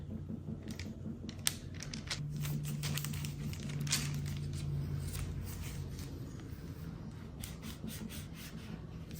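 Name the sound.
cutting sourdough English muffin dough with mason jar lid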